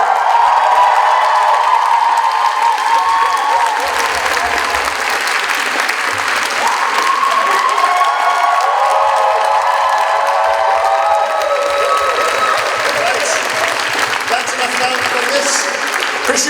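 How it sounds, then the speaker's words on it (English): An audience at an awards ceremony applauds its recipients with dense, sustained clapping that fills the room from start to finish at an even, loud level. "Another round of applause for all of our recipients tonight."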